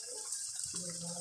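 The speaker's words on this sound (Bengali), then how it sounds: "কষাইয়ে ঝোলটা দিয়ে দিতেছি।" Water is poured into a pot of curry, a brief splash and gush of liquid lasting about a second, close and fairly quiet, with no speech.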